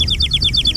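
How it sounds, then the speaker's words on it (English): A small toy bird-caller whistle used on a deck outdoors, giving a quick run of about eight bright, rising chirps in steady rhythm, close and loud. "she was calling the birds with her little whistle"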